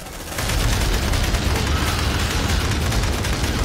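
Sustained automatic gunfire during a squad firefight in the video game Aliens: Dark Descent, a dense continuous roar of rapid shots starting abruptly after a brief quiet moment and staying loud throughout.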